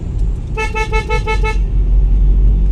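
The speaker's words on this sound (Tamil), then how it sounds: "உண்மையா பால்வண்டிக்காரனோட ஹாரன் மாதிரி தான் இருக்கு" A musical car horn blares a quick series of bright, tuneful toots for about a second, over a steady low rumble of road noise.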